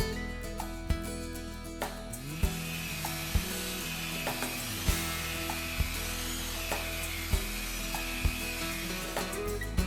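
A concrete floor polisher runs a 500-grit red polishing wheel over concrete in a wet/dry process, giving a steady mechanical drone broken by regular sharp knocking clicks, with no voices.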